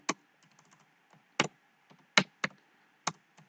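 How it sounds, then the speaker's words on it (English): Light, scattered keystrokes on a computer keyboard while entering styling code, arriving as a handful of separate crisp clicks at an uneven pace in a quiet room. "let me type the styling code here"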